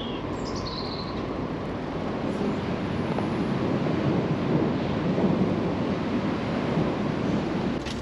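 Heavy downpour during a sudden thunderstorm, a dense, even roar of rain with a low rumble beneath it, continuous and fairly loud throughout.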